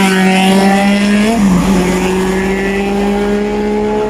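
A big bike and a Yamaha NMAX scooter race past during a 350 km endurance challenge, engines loud and close, pitch sliding down sharply mid-pass as they go by, then a steady engine drone continues.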